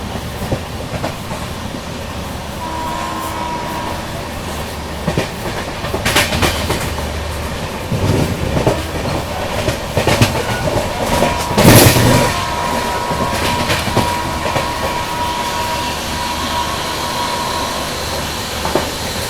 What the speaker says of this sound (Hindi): एकदम जबरदस्त हॉकिंग के साथ स्किप मार रही है अपनी ट्रेन किशनगढ़।